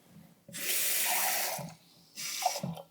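Half a cup of water runs from a tap into a pot of figs and lemon juice for fig jam, a steady close hiss lasting about a second, a short pause, then a second briefer burst with no talking.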